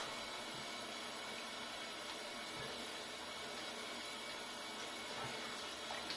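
Running water from a tap rinsing shaving soap off, a steady continuous rush that holds at an even level from start to finish with no talking.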